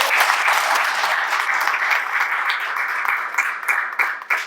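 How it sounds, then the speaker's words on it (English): Sustained applause from a crowd during a government agriculture minister's farm visit, steady dense clapping throughout with a few louder individual claps standing out near the end. "I want to give you a round of applause"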